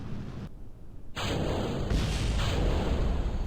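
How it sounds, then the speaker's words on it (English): Explosion in Kerbal Space Program during a rocket flight toward orbit, a sudden booming burst after a brief hush, followed by a roaring, rumbling wash of noise that lingers. "don't know what that explosion was all about"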